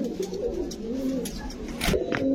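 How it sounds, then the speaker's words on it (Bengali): Pakistani Teddy pigeons coo steadily in soft, throaty repeated phrases, close by and moderately loud, with faint background rustling and no speech. "এই যে কবুতর দোনোটা দেখেন, ওটা অনেক সুন্দর ভাই"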